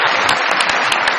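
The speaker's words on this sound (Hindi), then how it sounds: "इस सच पे तालियां होनी चाहिए।" A comedy studio audience claps loudly and steadily, a thick wash of many hands with a few sharper individual claps standing out near the microphone.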